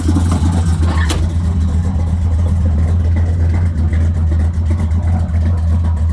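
A barn-find car engine runs at a steady idle, a close, loud low hum with a brief clunk near the start and no talking.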